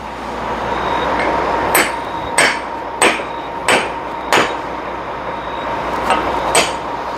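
A mallet strikes a brass drift in about eight sharp metallic blows, spaced roughly half a second to a second apart, loud and close over a low background hum, with no speech.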